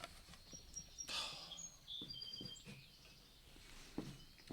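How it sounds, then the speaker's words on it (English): A red-winged blackbird calls faintly in the background with thin, high whistled notes, under low room rumble and a few soft knocks and thumps. "I think that sounds like a blackbird, red-winged blackbird in the background"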